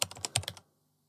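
Quick, crisp keystrokes on a computer keyboard patter in a short burst of about half a second, then stop into near silence.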